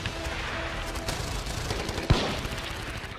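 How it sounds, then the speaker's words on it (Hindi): Gunfire in a street shooting in Chandigarh, a sharp single crack cutting through steady background noise, with busy ambient rumble before and after. "गोलीबारी से चंडीगढ़ में खलबली मच गई।"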